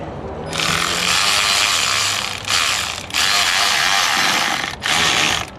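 Clamp being fitted and tightened on a 2005 LLY Duramax engine during head gasket work, giving a close, loud run of ratcheting clicks in three bursts separated by short pauses.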